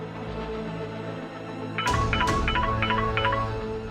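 A telephone rings in a Hindi TV drama with a warbling electronic tone, repeated in short bursts over a steady low background hum, fairly close.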